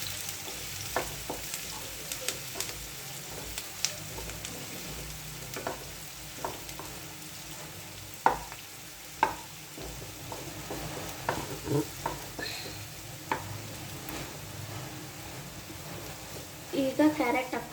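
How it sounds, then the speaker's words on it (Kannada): Chillies and onions sauté in a pan with a low, steady sizzle, punctuated by scattered scrapes and taps of a stirring spoon against the pan, close but fairly quiet throughout. "ಈಗ ಬಾಡಿಸ್ಕೊಳ್ಳೋಣ."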